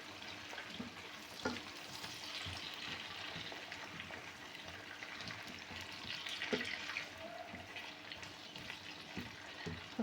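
Potatoes frying in a pan on a home stove give a steady, fairly quiet sizzle, broken now and then by soft clicks and stirring knocks, with no one talking.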